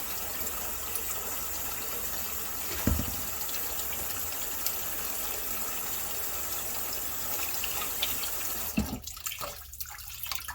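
Tap water runs steadily into a kitchen sink while mustard greens are rinsed, a constant gushing stream at moderate level with a couple of soft knocks and a brief splashing change near the end.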